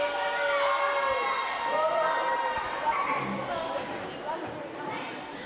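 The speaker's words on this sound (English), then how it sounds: "Crowd letting Misty have it." A wrestling arena crowd jeering and booing a wrestler named Misty, a dense sustained roar of voices that fills the room, with a commentator talking over it.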